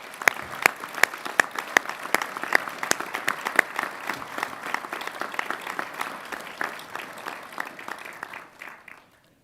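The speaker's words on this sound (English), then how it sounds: "Would you all join me to give a round of applause to everyone who has supported you in your journey?" Graduation ceremony audience at a college applauds steadily, a mid-distance crowd of sharp claps sustained for about eight seconds before quickly dying away.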